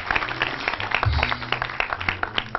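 A studio audience claps together in a lively, uneven patter of applause, close and fairly loud, with scattered individual claps standing out and a brief voice underneath.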